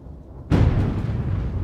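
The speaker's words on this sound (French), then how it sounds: "de violentes déflagrations retentissent dans le ciel pourtant sans nuages des environs de l'Aigle" After a faint low rumble, a single heavy boom from a meteorite bursts out of a cloudless sky near L'Aigle, Orne, and rolls on as a sustained, echoing roar.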